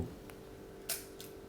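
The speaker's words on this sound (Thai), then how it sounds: "เสียงกดชัตเตอร์ยังชัดเจนอยู่นะฮะ" A Rolleicord Vb film camera's shutter fires in one crisp, quiet click, preceded and followed by fainter mechanical ticks against a low background hum.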